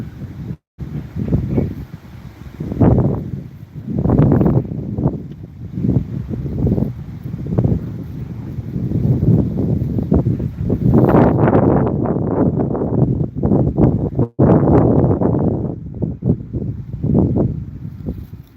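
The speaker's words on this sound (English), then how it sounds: "The wind picked up." Strong outdoor wind buffets the microphone in steady, roaring gusts that rise and fall for the whole stretch, loud and close with no speech over it.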